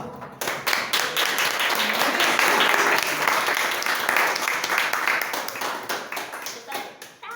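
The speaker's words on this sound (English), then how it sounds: "Normally we keep the applause going until the person drags himself up here." A Toastmasters meeting audience applauds the second place winner at the podium: steady, dense clapping from a room full of people, loud and sustained for several seconds before tapering off.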